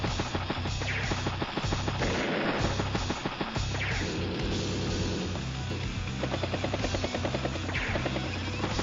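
A battlecopter and other units attack in Advance Wars: Days of Ruin, heard as a steady buzzing helicopter rotor with rapid mechanical gunfire and crashes layered over game music.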